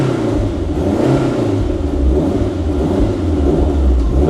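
A Lancia Delta Evo1 engine, still in its running-in period and with a rough idle, runs steadily and revs with a loud, close, throaty rumble that rises and falls slightly, with no voices.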